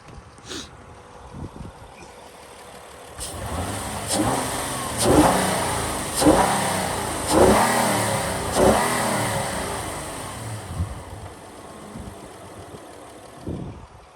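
The engine of a 2016 Honda Odyssey EX-L minivan is revved repeatedly from idle, with about six rising and falling surges in a rhythmic series before it settles back to a steady idle, heard up close with no talking.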